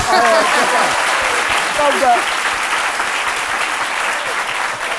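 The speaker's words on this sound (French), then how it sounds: "Applaudissez ça, non?" Loud, steady applause from a studio audience at a French-language comedy talk show, with brief voices and cheers rising through the clapping.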